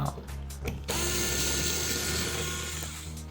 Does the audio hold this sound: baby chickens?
no